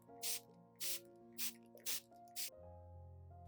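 A mist sprayer puffs water onto an orchid plant in five short, crisp hisses at an even pace, close and fairly quiet.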